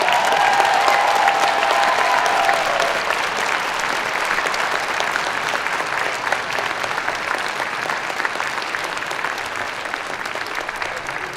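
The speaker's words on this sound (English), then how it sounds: "Graduates, a round of applause for friends and family." Sustained applause from a large audience at a fall university convocation and graduation ceremony, steady and dense throughout and gradually easing slightly toward the end.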